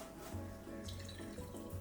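Half a cup of water runs into a sauce mixture of baking soda, sugar and neutral oil, a soft, steady trickle with faint hum underneath, close and quiet, with no voices.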